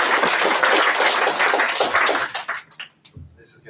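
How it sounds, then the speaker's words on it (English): Audience applause at an awards ceremony, a dense burst of clapping that swells and then thins out into scattered claps before fading. "round of applause for Francis."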